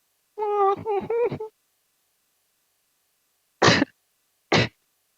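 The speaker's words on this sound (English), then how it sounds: "Sorry about the cough." A strained vocal sound, then two sharp, harsh coughs separated by silence, close and loud.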